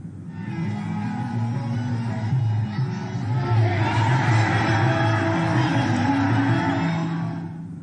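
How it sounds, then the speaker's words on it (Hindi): A large crowd of supporters at an election rally in Bihar, a dense, loud, steady roar of many voices with rising chants and cheers that swell in the second half and continue throughout. "पवन सिंह के समर्थन में जुटी भारी संख्या में भीड़ ने खूब नारे लगाए"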